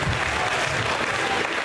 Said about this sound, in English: Now let go those hands and begin to give the Lord a mighty ovation.